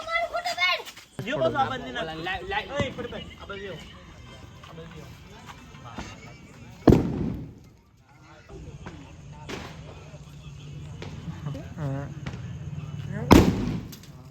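Sharp Diwali firecracker bangs go off a few times in an open plot, loud and sudden, amid people talking and background noise outdoors.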